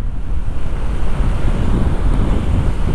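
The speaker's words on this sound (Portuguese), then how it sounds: "Eu tô aqui debaixo de chuva, só pra vocês verem." Loud roaring wind buffeting a microphone outdoors while riding a Voltz EV1 electric motorcycle in the rain, a constant low rumble with rushing rain and wind noise.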